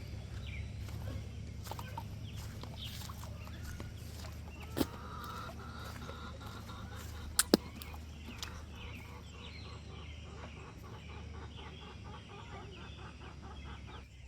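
Chickens cluck and murmur inside a chicken house, a continuous low flock chatter with occasional sharper calls and a couple of brief knocks, recorded fairly faintly.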